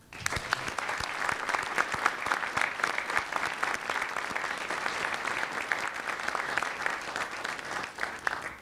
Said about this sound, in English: join me in a round of applause for the Marines and the civilians at the barracks